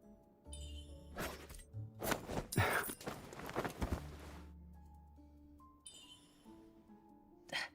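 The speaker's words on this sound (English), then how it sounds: "Your footsteps are noisy" Footsteps in Love and Deepspace: a few scattered steps and light clinks amid low ambient music and tones, with a louder cluster of impacts near the middle and quiet stretches around it.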